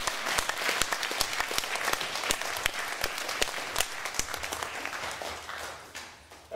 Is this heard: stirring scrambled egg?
no